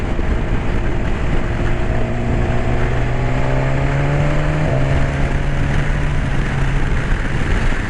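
Motorcycle engine droning steadily through a corner, a loud, constant tone that dips slightly mid-ride and then holds, heavily mixed with rushing wind noise from the rider's position.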